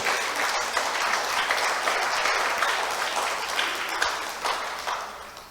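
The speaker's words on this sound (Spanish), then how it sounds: "Denle aplauso al Señor, por favor." Church congregation applauding during a sermon, a thick, continuous wash of many hands clapping at moderate loudness, steady for the whole stretch with a few sharper claps standing out.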